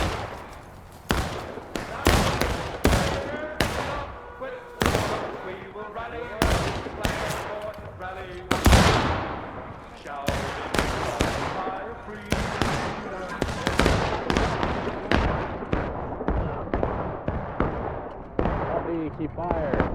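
Muskets fire again and again in War of Rights, loud sharp reports cracking out irregularly, alone or in quick clusters, some near and some farther off, with voices now and then between them.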